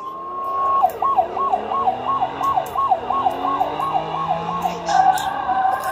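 A video game police siren in Flashing Lights wails in a fast, regular up-and-down pattern, loud and close, with engine rumble underneath and a brief blip near the end.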